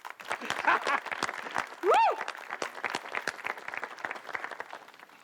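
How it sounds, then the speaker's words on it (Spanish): A class claps at a party, a loose scatter of individual hand claps under lively talk and voices, with a brief rising squeal-like vocal sound partway through. "¡Aplauden, class!"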